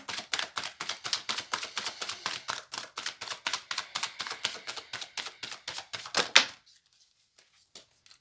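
Tarot cards are shuffled by hand in a rapid, even run of crisp flicks and riffles, close and moderately loud, for about six seconds. The run ends on a sharper snap, followed by near silence.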